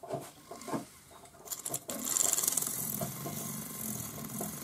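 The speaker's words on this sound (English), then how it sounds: "So we just spin it up and sand our solder joint off on the inside" A small rotary tool whirs up and sands a solder joint inside a metal ring, producing a rough, hissing abrasive sound with some clicks and handling noise before it starts.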